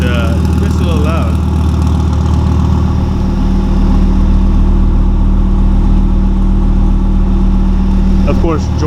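Dodge Viper ACR track car idling, a steady, loud low engine rumble with a continuous drone close by, as voices talk over it.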